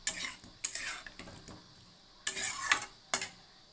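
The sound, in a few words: stirring potatoes being sautéed in a pan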